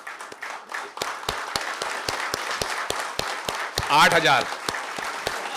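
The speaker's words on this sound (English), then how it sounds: "please clap for a round of applause for all of you actually" An audience at a dealership event claps steadily in a sharp, rhythmic applause, close and fairly loud, while someone speaks over it and another voice briefly rises partway through.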